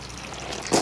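Water drains from a motorhome's water tank on a 2012 Auto Trail Commanche, a steady close trickle that swells into a brief louder splash at the end.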